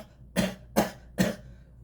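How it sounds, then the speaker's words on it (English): Three distinct coughs, evenly spaced about a third of a second apart, close and moderately loud, with no talking. "Excuse that little coughing there that I had, that little coughing spell"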